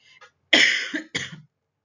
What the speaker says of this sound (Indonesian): maaf ya ini batuk terus